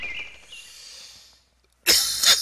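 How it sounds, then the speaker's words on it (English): A single person coughs sharply into a microphone, a loud close burst after a short stretch of faint background sound and silence, with no speech. "Let me cough into the mic some more."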